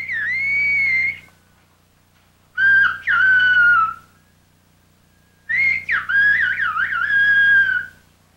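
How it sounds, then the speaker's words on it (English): A person whistles whole sentences of whistled speech in three separate phrases with gliding, speech-like pitch contours, clear and close, with quiet pauses between them. "they were allowed to whistle whole sentences"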